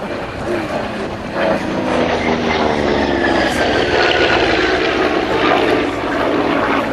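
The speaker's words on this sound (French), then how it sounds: "il monte avec ce gros moteur qui a un souffle grave et qui le tire et le remorque sans trop de difficulté" A Grumman Hellcat fighter plane's big piston engine gives a deep, steady roar that stays loud and close throughout, with a droning propeller sound and a slowly shifting pitch as the aircraft climbs.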